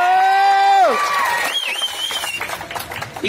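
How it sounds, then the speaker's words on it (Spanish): An audience at a clown show erupts in clapping, cheers and shouts to vote for a contestant. A tonal, voice-like sound opens the moment before the loud, ragged crowd noise takes over and then tapers off. "A base de aplausos y gritos vamos a elegir el ganador"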